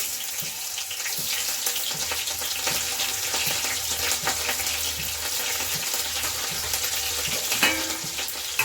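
Cumin seeds and green chillies fry in hot oil in a pan, a continuous loud sizzle and crackle with occasional spits and pops, close up and without talk.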